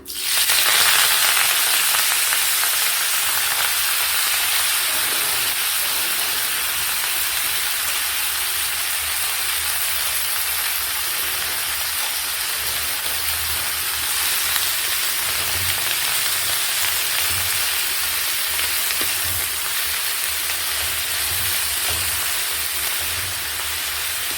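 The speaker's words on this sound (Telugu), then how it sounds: "ఇలాగే తోటకూర బాగా ఫ్రై చేసుకోవాలి" Chopped amaranth leaves fry in a pan with fenugreek powder, giving a loud, continuous sizzle and hiss that runs on evenly without any talking.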